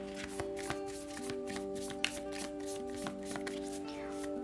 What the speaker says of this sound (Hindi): तो चलिए अब हम लव के लिए भी शफल कर लेते हैं